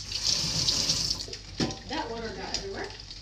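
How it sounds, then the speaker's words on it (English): Tap water running into a kitchen sink while hands are rinsed, a loud, bright splashing that rises and shifts as the hands move through the stream and continues to the end. "Let me rinse my hands."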